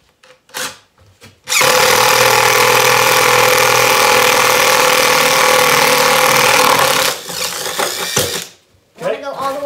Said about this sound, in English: Okay, so we're going to drill right in the center.